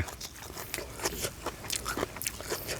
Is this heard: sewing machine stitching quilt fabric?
no